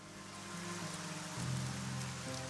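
Rain falls steadily in Arcania: Gothic 4, a constant broadband hiss of drops under layered game music and tonal ambience, moderately loud and continuous throughout.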